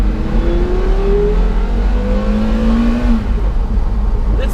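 A Porsche Carrera GT with an engine developed for a Le Mans racing car revs hard, its loud, high-pitched wail climbing and sweeping through gears close by, heard alone.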